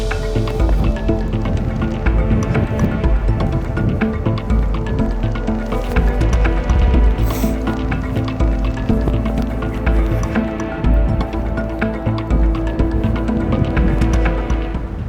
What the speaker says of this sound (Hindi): जो बारिश है, जो बूंदाबांदी थी वो थोड़ी सी और तेज़ हो गई है